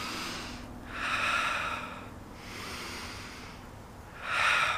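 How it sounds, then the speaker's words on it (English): Slow, deep breaths drawn in and let out in three long swells, close and steady with no talking, as part of an energizing breathing exercise. "Breathing deep, refreshing, regenerating, generating some energy"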